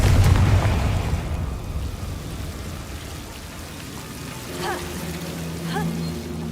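A Confringo spell in the video game Hogwarts Legacy bursts with a deep, loud boom right at the start, then fades into a steady rain-like wash with a few faint chirps.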